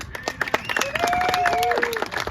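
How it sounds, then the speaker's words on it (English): Clapping from an outdoor crowd at a steam locomotive dedication ceremony, steady throughout, with whistle-like tonal sounds running over the applause. "Let's give him a round of applause."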